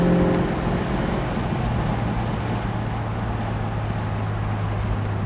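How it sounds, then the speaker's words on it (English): Constant roaring wind from the convertible top of a 1968 Plymouth GTX 440 at about 60 mph buffets steadily along with a low engine drone, with no talking. "especially with the wind noise from the convertible top"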